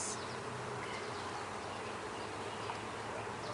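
Honey bees buzz densely and continuously around an open hive box, a close, steady drone filling the whole moment without pause.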